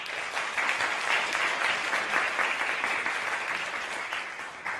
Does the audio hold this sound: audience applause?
yes